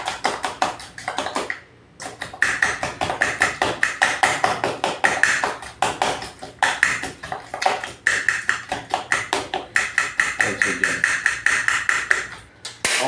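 Omelette ingredients with ground pepper being mixed in a bowl, a steady rapid clatter of a utensil tapping and scraping the bowl, close and continuous with one brief pause.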